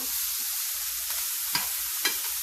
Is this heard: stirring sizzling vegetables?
yes